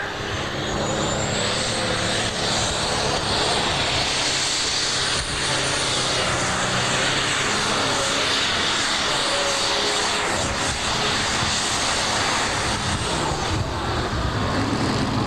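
Roaring engine of a 7500 super stock pulling tractor at the 1988 Ohio State Fair, a loud, sustained, broadband drone that holds steady for the whole stretch with no talk over it.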